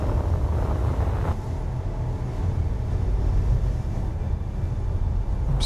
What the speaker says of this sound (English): It's the engines.